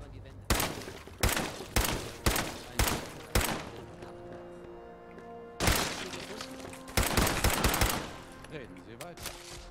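Video game gunfire from Fallout 4: a rapid series of sharp, loud shots in bursts, with brief pauses between volleys and a metallic ring trailing after.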